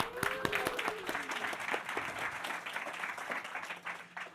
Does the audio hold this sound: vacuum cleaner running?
no